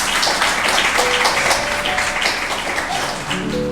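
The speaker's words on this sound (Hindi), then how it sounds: "यीशु मसीह के लिए एक जोरदार ताली बजाएंगे।" Loud, dense applause from a church congregation at an Easter Sunday meeting fills the whole stretch, with a voice speaking over it.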